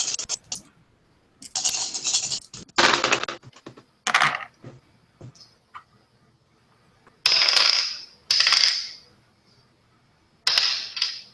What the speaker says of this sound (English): So everyone has their dice they're going to roll.